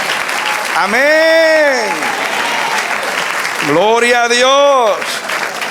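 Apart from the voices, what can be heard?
church congregation applauding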